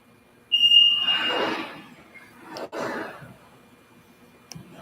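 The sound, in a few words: sublimation heat press beeping when done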